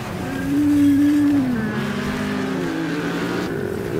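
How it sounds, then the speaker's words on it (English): A car in the Wreckfest racing game lets out a long tonal screech of tyres, loudest early and then wavering in pitch, over a steady engine and race-noise bed with no talking. "Screeching sound effects."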